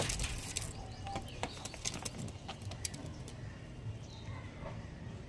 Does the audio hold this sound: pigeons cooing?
yes